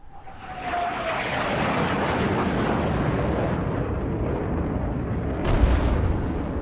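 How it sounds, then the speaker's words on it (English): A napalm airstrike in Rising Storm 2: Vietnam unleashes a sustained roaring fireball explosion, a dense, loud rumble that swells and holds for several seconds, with a deeper thump near the end. "that fireball, it does a lot of damage to the enemy"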